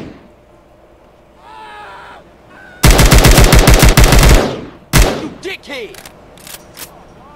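AK-47 from a GTA Trilogy mod with Modern Warfare 2019 weapon sounds: metallic reload clicks and rattles, then a loud close automatic burst followed by a single shot and scattered mechanical clacks.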